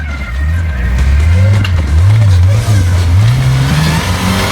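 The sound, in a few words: turbocharged off-road race car revving, wastegate firing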